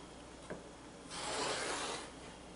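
A rotary or blade cutter sliding through quilting fabric along a ruler gives a brief, soft rasping swipe lasting about a second, close and quiet, with a small tap just before it.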